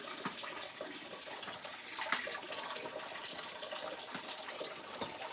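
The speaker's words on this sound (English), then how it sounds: "Let it drain." Hot dye water is draining out of dyed puppet fleece, making a steady, soft trickling and splashing stream that runs continuously at low level, close by.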